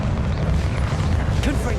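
A short, heavy boom from the Confringo fire spell in Hogwarts Legacy, a muffled low burst amid game noise with a voice speaking.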